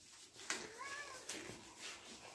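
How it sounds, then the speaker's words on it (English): A cat gives a single faint, short meow midway through a quiet indoor room, with soft background noise and a few light knocks around it. "My little cat's running around."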